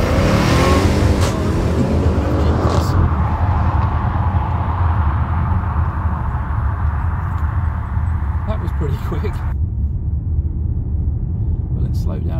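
Audi RS7 with sports exhaust pulls away from a standstill on a slippery surface, a loud deep engine roar rising as it accelerates, then dropping abruptly as it lifts off near the end.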